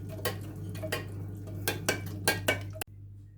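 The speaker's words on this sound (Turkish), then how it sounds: "Şöyle yavaş yavaş bir karıştırayım." A spoon stirs gelatin dissolving in boiled water, a few soft clinks and scrapes against the bowl in a slow rhythm over a low steady hum, ending with a sharp knock.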